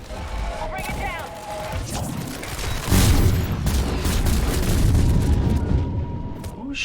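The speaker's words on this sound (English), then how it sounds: "Who's shooting me?" Sci-fi gunfire and heavy booms from the action game Mass Effect 3 rumble at a steady loudness, with a bigger blast near the middle and a voice talking over the fighting.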